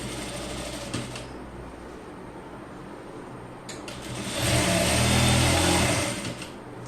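A sewing machine stitches elastic onto children's pants with a close, steady mechanical whirr that surges louder midway and then fades.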